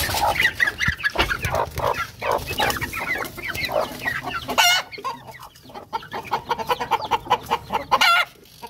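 Chickens and chicks cluck busily up close while eating scattered millet, a dense flock of short overlapping clucks and chirps with occasional scratching and pecking sounds.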